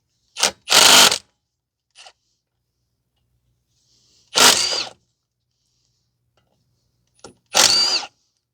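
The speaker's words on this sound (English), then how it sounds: "So now we need to remove the rotor screws. It's a T40." Power tool bursts removing T40 Torx brake rotor screws on a 2012 Ford Fusion 2.5 during front brake work: three loud whirring runs of a few tenths of a second each, with small clicks between, close by and without speech.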